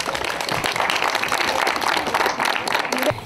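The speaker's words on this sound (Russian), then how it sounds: "поприветствуем друг друга аплодисментами" People at a press conference with the cast of a stage musical applaud one another. The clapping is dense and moderately loud, fills a few seconds and breaks off abruptly at the end.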